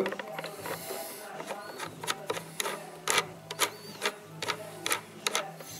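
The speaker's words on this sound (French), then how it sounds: "Je vais dévisser ça de ma base." A Kronos vape atomizer being unscrewed from its base: a run of small, close metallic clicks and scraping ticks at an irregular pace, set over a faint background hiss, with no voices.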